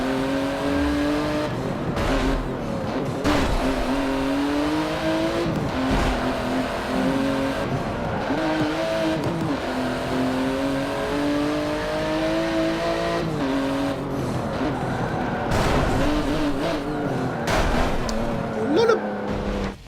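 A 2018 Porsche GT2 RS race car engine in Forza Motorsport 7 on Xbox One X roars continuously, rising and falling in pitch through gear changes while someone talks over it.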